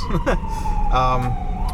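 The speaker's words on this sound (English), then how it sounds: "Excuse the sirens." A siren wails with rising and falling tones over traffic rumble on a snowy rooftop, fairly close and loud, briefly sweeping upward.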